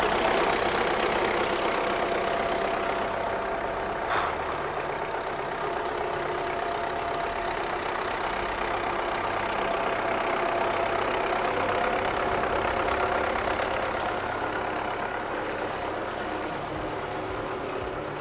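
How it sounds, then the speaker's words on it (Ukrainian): A 2012 MTZ Belarus 82.1 tractor engine idles steadily up close, a constant even rumble with no other sounds, running the whole time. "Двигун працює дуже рівно, немає особливо ніяких зауважень."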